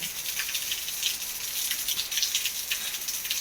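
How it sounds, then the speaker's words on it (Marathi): Steady, dense hiss of heavy rain pouring down in Beed city, Maharashtra, India, with brief surges in intensity and no voices. "खूप जोराचा पाऊस बीड शहरामध्ये पडला"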